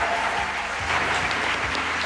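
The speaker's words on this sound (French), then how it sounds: "Aymeric, et vous faites bien de l'applaudir, Aymeric" Studio audience applause on a French television show: dense, loud, continuous clapping from a crowd close by, sustained throughout with no break.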